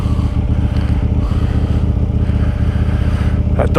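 KTM Duke 890 GP motorcycle with an Akrapovic exhaust riding through London streets, a steady loud engine drone with wind rush, a brief higher sound rising near the end.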